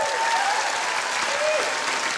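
A dating-show studio audience gives a loud, dense round of applause, continuous clapping from many hands throughout, with a faint voice briefly over it.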